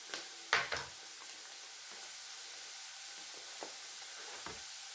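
Mushrooms fry in a pan with a steady, soft sizzle throughout, broken by a few brief stirring clatters near the start and light scrapes later.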